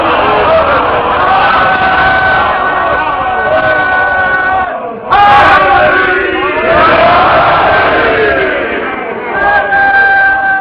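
A large crowd at a religious majlis gathering chants slogans in loud, sustained unison, with a brief dip in the middle before the voices surge again. The chant is close, powerful and continuous.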